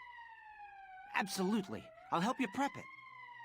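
A steady, droning emergency siren from the video game Valkyria Chronicles holds a constant pitch in the background while a character speaks over it in two short phrases.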